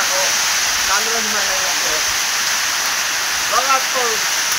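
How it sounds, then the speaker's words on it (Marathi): Rain falls in a steady, even hiss outdoors, with brief faint voices or chirps rising over it now and then. "बघा पाऊस."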